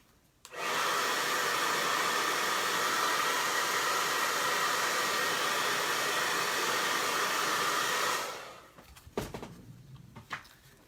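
A hair dryer blows steadily and fairly loud for about eight seconds to dry acrylic paint on an Easter chick craft, then switches off, leaving brief handling clatter.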